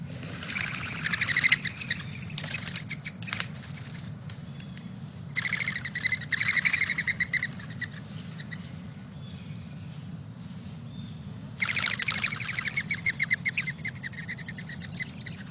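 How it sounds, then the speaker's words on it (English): A mourning dove's wings make a whistling, fluttering twitter in three rapid bursts separated by pauses, heard over a low background rumble. "here is the mourning dove, and here is the sound from the wings"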